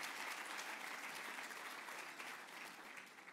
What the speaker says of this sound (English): Yeah, let's clap again for that.